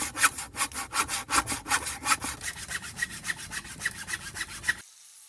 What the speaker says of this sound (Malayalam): അപ്പോൾ നമുക്ക് ആ വുഡ് കട്ട് ചെയ്യുന്നതിലേക്ക് പോകാം.